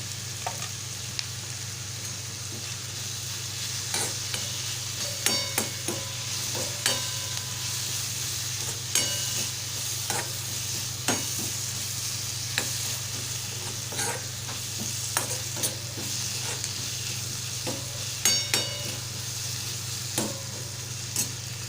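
Dried shrimp dish being stirred and fried in a pan, a soft continuous sizzle punctuated by regular scraping taps of the spatula, close but fairly quiet over a low steady hum.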